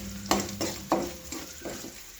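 Onions fry in a hot pan, a near sizzle broken by several sharp scrapes and stirs of a utensil against the pan, spaced unevenly over a couple of seconds.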